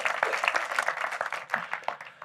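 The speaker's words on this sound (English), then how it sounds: "Maybe you can give him a round of applause and we'll start off." Audience applause for a guest speaker at a live conference session, a dense patter of many hands clapping steadily throughout at moderate level.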